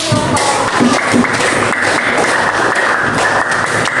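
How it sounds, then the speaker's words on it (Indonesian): Pupils in an elementary school classroom give a round of applause, dense clapping from many hands that holds steady for several seconds and sounds close. "kita beri aplaus dulu"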